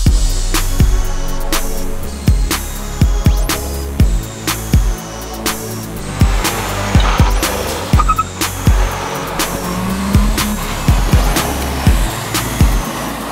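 A Renault Clio Williams group F2000 race car drives hard on a closed road in Guadeloupe, the engine loud and close, revving and dropping with repeated sharp gear changes and bumps, no voices.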